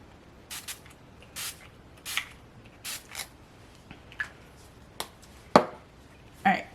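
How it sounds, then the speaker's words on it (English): An all-nighter makeup setting spray is misted in a series of short, sharp bursts, roughly eight spritzes spaced unevenly, close and fairly quiet. "I'm going to set with my all-nighter setting spray."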